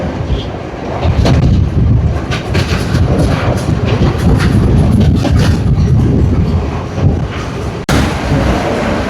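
A passenger train runs at speed through Wellawatte station in Sri Lanka on the Jaffna to Kataragama route, giving a loud, steady rumble of wheels and carriages with rhythmic clatter and a sharp dip near the end.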